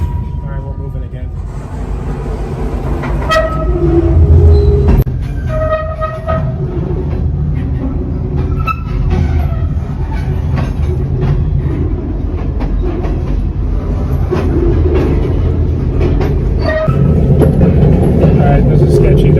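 A freight train slowly getting underway on its rails, a loud low rumble with scattered metallic clanks and squeals from the couplings and wheels.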